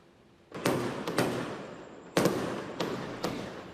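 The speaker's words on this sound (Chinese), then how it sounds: "因为烟火声毋能甲附近居民吵精神" Fireworks burst in the middle of the night over a residential neighbourhood, with several sharp, loud booms spread irregularly and each one trailing off into a short rumbling decay, all without any voices.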